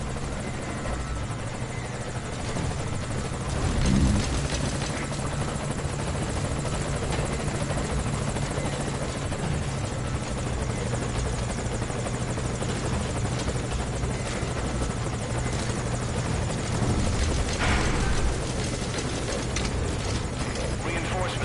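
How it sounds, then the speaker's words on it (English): A helicopter hovers in the Metal Gear Solid V: Ground Zeroes video game, its rotor drone steady and loud across the whole stretch with no voices over it. "I'm sending a chopper to pick you up."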